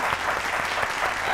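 A studio audience at a Nowruz special quiz show claps in a sustained, even burst of applause, dense and fairly loud, with faint voices mixed underneath.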